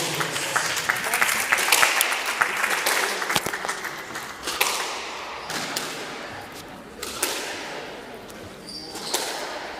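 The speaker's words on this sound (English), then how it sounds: "let's draw the applause" An audience at the Crown Paints Karen Open 2025 squash tournament in Kenya applauds the players with a steady wash of clapping, swelling early and then continuing more moderately, with a few sharper claps standing out.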